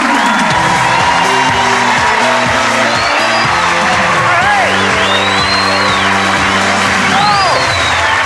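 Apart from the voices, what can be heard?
studio audience cheering and applauding game show host Roy Walker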